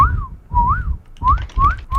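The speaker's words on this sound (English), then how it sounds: "So like it just sounded like a guy whistling, like when it was at like 1/4 speed" A slowed-down bird tweet that sounds like a person whistling: five rising-and-falling whistled notes in a steady rhythm, loud and close, with a low rumble underneath.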